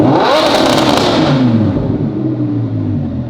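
A car engine revs hard toward high RPM, a loud, close, continuous roar whose pitch sweeps upward and then holds, with no talking over it.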